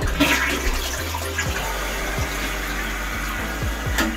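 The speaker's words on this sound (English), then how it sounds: "when the water is flushing, it should swirl around, which this is not doing" A partly clogged toilet flushing, a steady rushing gurgle of water close by, with a low pump-like hum underneath and no talking.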